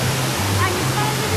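A waterfall in Barili roars as a loud, steady rush of water close by, with a voice talking over it.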